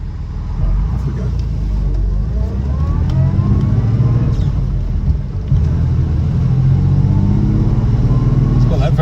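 A 1965 Jaguar MKII with a 3.4 engine and overdrive pulls away in its whiny Moss-box first gear, a steady loud engine rumble with a rising gear whine, heard from inside the car while someone talks over it.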